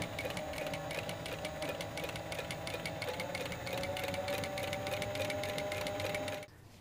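A sewing machine runs continuously and close up, stitching rows of cording into a cowboy boot top with a steady rapid mechanical chatter and whirr, stopping abruptly at the end.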